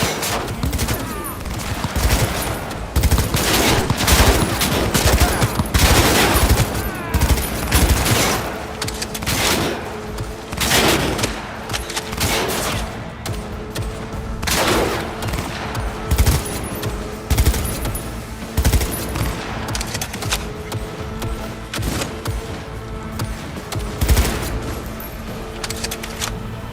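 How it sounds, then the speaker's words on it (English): Gunfire in the video game Cyberpunk, a dense, continuous run of loud overlapping shots and bursts with no pause, close and sustained across the whole stretch. "Keep firing, goddammit!"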